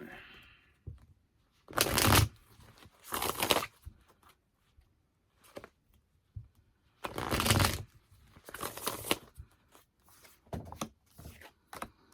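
Tarot cards are shuffled in several brisk bursts, crisp riffling and flicking close up, separated by quiet pauses.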